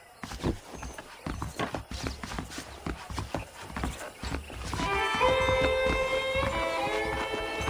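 Horse hooves in Red Dead Redemption clip-clop in a steady, rhythmic walking gait on hard ground, moderately close, before giving way to a sustained musical tone with a brief whinny-like sound.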